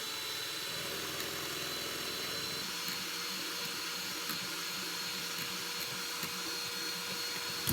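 An electric mixer whips egg whites with a steady, fairly faint motor whir and churning texture, running continuously without speech.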